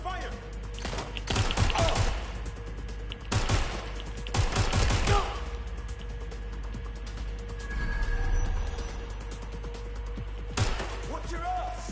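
Gunfire in the video game Watch Dogs Legion, several bursts of shots cracking out in clusters between quieter stretches, with talk and other game sounds around them.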